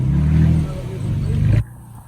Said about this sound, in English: Roman's driving the Tacoma